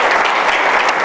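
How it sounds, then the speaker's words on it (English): Brief, dense round of audience applause for a speaker named Grace at a talk on the green economy, loud and steady clapping filling the moment with no voices over it. "Can we hear another round of applause for Grace?"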